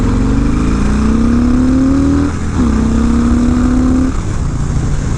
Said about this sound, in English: Let's roll on full throttle. Go through the gears.